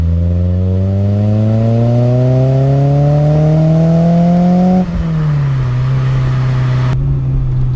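A BMW E30 M3 engine revs steadily higher under load, then the pitch drops with a gear change and it keeps droning loudly close by.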